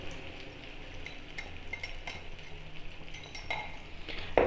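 Egg and tomato stirred in a pan, a spoon scraping and clinking against the metal in irregular taps over a faint sizzle, close and quiet.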